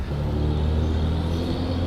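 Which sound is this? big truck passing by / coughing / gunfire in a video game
big truck passing by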